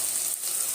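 Tomato masala frying in a pan with oil: a brief, soft, steady sizzle with a faint hiss and no pauses.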